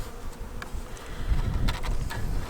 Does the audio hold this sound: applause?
no